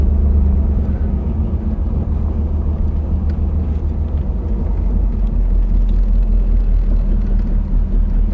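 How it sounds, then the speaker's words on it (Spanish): A 1999 Chevrolet Camaro LS1 V8 engine idles with a deep, steady rumble close by, continuous and loud throughout with no talking. "Me encanta el sonido del motor."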